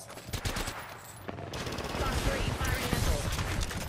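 Rapid gunfire in an Apex Legends battle royale match, bursts of shots rattling close and loud at first, then a dense, sustained exchange of fire continuing throughout.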